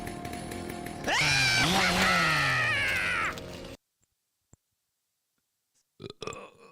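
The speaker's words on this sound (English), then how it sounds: "That was my burp." A loud, long, drawn-out burp with a rising then falling croak, followed by silence and a couple of faint clicks.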